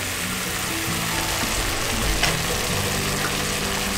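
Tomato softening in a pan over Green Bay whitefish on low heat gives a steady, even frying sizzle with a low hum beneath, continuous and close with no talk.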